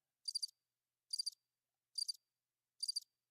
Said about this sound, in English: that's crickets?